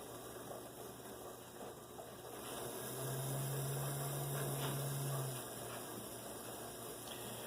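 An Athearn model locomotive motor spins on the bench while its flywheel is polished with steel wool, a steady faint electric whir under a constant low hum that swells slightly in the middle.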